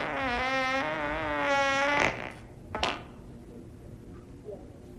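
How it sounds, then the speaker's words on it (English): A drawn-out buzzy fart sounds close by for about two seconds, followed by a couple of sharp clicks and quiet room noise. "Was that a fart?"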